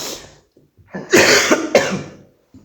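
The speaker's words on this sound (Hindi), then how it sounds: "तो थोड़ा क्लास में खांसी आ गया था, उसके लिए सॉरी" A man coughs twice in a classroom, harsh close bursts with a throat-clearing quality, separated by short quiet gaps.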